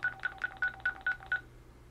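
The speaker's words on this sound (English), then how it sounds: "I'm putting it in speaker so you can hear, and you can dial another number." An AT&T DECT 6.0 expandable cordless phone in speaker mode dials a number, producing a quick, evenly spaced run of about seven short DTMF beeps, fairly quiet and with no talking.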